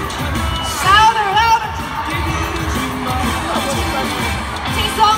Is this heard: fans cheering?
yes